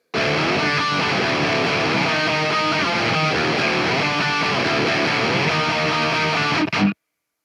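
A heavily distorted electric guitar riff in D tuning, played through a Quad Cortex, chugs loudly and continuously for about seven seconds with dense palm-muted rhythm, then cuts off abruptly.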